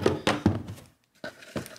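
The lid of a combat robot test box thumps shut and is sealed: a quick run of hollow knocks, a short pause, then two more dull thunks, close and moderately loud.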